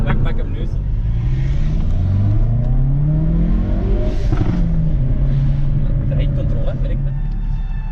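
Hyundai i30N fitted with a Forge cold air intake, engine note rising and falling through gears from inside the car under braking and acceleration, a steady loud drone with a voice talking over it.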